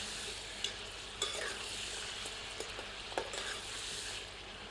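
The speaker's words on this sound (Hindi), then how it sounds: "धीमी आंच पर हमने इसे 7 से 8 मिनट भून लिया है।" Mutton frying over a low flame for a Rajasthani jungli maas, a soft, quiet sizzle with occasional scraping clicks of stirring, faint and close.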